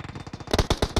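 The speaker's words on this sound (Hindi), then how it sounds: "बहुत गोलियां चल रही है" Rapid bursts of automatic gunfire in a battle royale video game, a loose rhythm of shots that swells louder and denser in the second half, with no talk over it.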